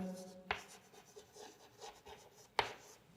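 Chalk or pen strokes scraping out math on a board or paper, soft scratchy rubbing with two sharp taps, close and quiet, with no one talking.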